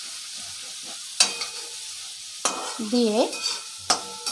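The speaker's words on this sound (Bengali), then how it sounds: "কড়াইতে আমি পেঁয়াজ আলু এগুলো ভেজে নিচ্ছি।" Onions and potatoes frying in a wok, a soft sizzle broken by a few sharp stirring scrapes, with a brief voice speaking in between.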